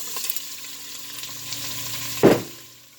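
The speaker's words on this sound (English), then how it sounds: "While the carrot and celery and onion is cooking here" Chopped carrot, onion and celery sizzle steadily in a pan over medium heat, with a brief louder burst of stirring or clatter near the end; no one speaks.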